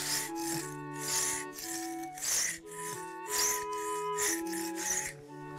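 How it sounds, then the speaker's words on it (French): A hand rasp scrapes soft tuffeau stone in a Loire troglodyte cave home, making repeated rough rubbing strokes in a steady back-and-forth rhythm. The sound is close and even, with no talking. "Voilà les outils pour gratter le tuffeau"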